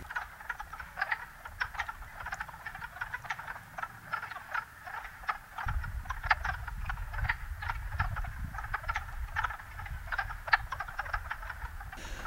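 Wood frogs croaking in a vernal pool, a dense chorus of rapid clucking calls over steady background noise, continuing throughout with a low rumble joining halfway.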